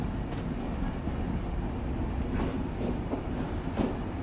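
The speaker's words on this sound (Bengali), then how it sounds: "দর্শনা হল্ট রেলওয়ে স্টেশনে আমাদের ট্রেন তার নির্ধারিত বিরতি শেষ করে আবারও চলতে শুরু করলো" Benapole Express train rolling on after pulling out of Darshana Halt station, a steady close rumble of the carriage with faint rail clatter and a few brief bumps, no talk.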